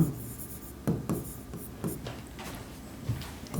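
Pen writing on paper while filling in a cash book ledger for an accounting lesson: soft, close scratchy strokes in short bursts with small taps between, no talking.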